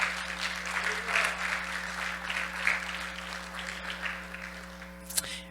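Church congregation applauding during a Spanish-language sermon, a steady wash of clapping from many hands across the room with a low hum underneath, ending with a brief louder burst.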